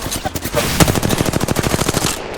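Rapid automatic gunfire from a video game rattles in a dense, steady burst of close, loud shots lasting about two seconds, with a brief sharp crack early on.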